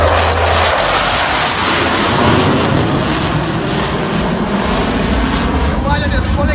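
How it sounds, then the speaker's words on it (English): Pakistan Air Force jet at an airshow in Karachi, flying low at extremely low speed in a high-alpha pass, giving a loud, steady engine roar that swells slightly and then holds through the whole stretch, with no voices. "You can now see the aircraft flying at extremely low speed, performing the high alpha."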